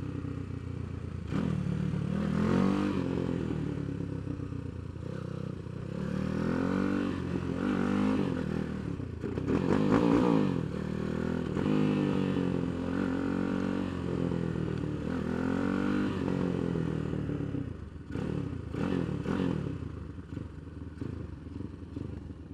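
A Tianda TDR300 motorcycle rides a race track at Mission Raceway, its engine rising and falling through repeated revving surges and gear changes, loud and close, with occasional clattering and scraping and no talk.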